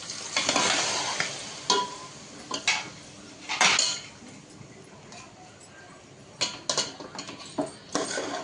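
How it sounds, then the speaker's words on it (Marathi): Chicken goes into a pot and is stirred, with a series of sharp metallic clanks and scrapes of the spoon over a faint sizzle, fairly close and without talking. "चिकन टाकते मी आता"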